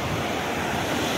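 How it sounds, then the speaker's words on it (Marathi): A steady roar of surf washing in, broad and continuous, with wind rushing across it and no voices. "समुद्राचा आवाज."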